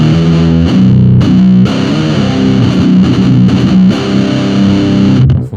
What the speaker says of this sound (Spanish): Una distorsión mucho más metalera.